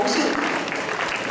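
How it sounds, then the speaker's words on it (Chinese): A brief burst of steady audience clapping at a graduation ceremony thanks the guests, with a voice faintly beneath it. "再一次掌声谢谢我们的贵宾"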